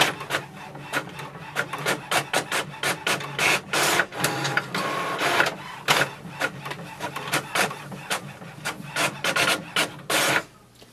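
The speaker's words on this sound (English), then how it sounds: "here we can see it has printed the two pages" An HP OfficeJet Pro 8024 all-in-one inkjet printer runs a print job, giving a steady series of rapid mechanical clicks, rasps and carriage shuttles, close and loud with no talking.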